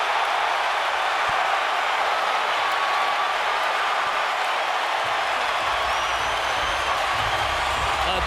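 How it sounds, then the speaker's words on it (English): Boxing crowd in an Omaha arena roaring after a fight is stopped, a steady, loud wash of cheering and shouting that holds without a break throughout. "A deafening roar in Omaha."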